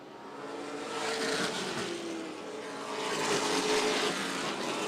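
Stock race cars from the CRA All-Stars Tour battle at Auto City Speedway, their engines roaring steadily and swelling in a continuous drone as the pack runs close together, with no talk.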